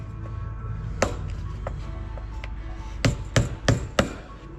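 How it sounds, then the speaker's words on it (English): Several sharp knocks of a plastic hammer on chrome trim of a 1977 Datsun 280Z, a few isolated taps then a quick run of four louder strikes, close up against a steady background hum. "I'm using plastic tools and a plastic hammer just so I can try to not beat this chrome up any"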